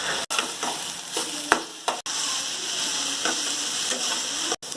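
Ginger garlic paste sizzles in a hot pan, a continuous close frying hiss with a few stirring clatters and brief sharp cuts in the sound.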